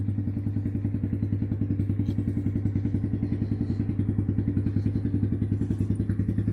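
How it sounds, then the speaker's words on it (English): A small pit bike engine runs steadily after starting, a fast even putter of rapid firing pulses with a rattly clatter, close and loud throughout with no talking. "Let's see if this thing actually starts."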